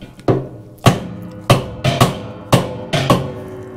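Six heavy, dull dead blow hammer blows land at uneven intervals on a Speed Queen washer during bearing and seal replacement, each a sharp thud that quickly dies away, with no talking.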